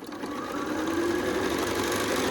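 A sewing machine runs steadily while stitching quilt pieces along a seam for a Hunter Star rainbow quilt, giving a close, continuous mechanical whir with a fast even stitching rhythm and no talk.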